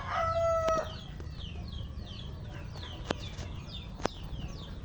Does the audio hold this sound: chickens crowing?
yes